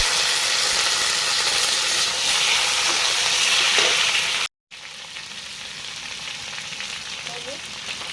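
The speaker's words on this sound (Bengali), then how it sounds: "এবার দিচ্ছি টমেটো কুচি" Chopped tomatoes tipped into a pan of frying onions for a fish head curry, a loud steady sizzle close by that drops out briefly and returns a little quieter, with faint stirring scrapes.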